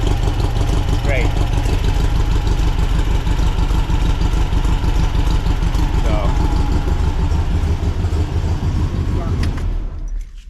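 A 1961 VW Beetle engine with a serpentine belt driving a supercharger idles steadily and loudly with a continuous low rumble and mechanical clatter, ending in a brief fade as it cuts off.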